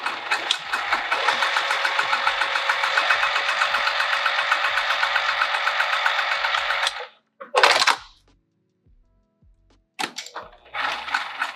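A sewing machine runs in a steady, fast stitching burst for about seven seconds while basting and back stitching the side and bottom seams of a Barbados bag at a long stitch length, then stops, followed by a few short bursts of stitching.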